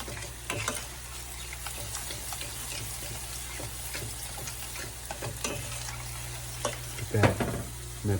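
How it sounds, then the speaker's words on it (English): Cream cheese and yogurt being stirred into enchilada sauce for a green chile chicken casserole: repeated scraping, clicking spoon strokes against the pan over a steady low hum, with no one talking. "With the enchilada sauce, we're just mixing up cream cheese and the yogurt."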